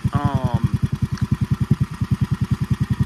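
Predator 459 engine idling on a VF-1 fitted with a 780 series torque converter, its clutch disengaged: a steady, loud, rhythmic thumping putter with a brief higher whine at the start.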